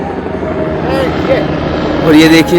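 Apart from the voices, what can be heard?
helicopters flying to Panchtarni on the Amarnath Yatra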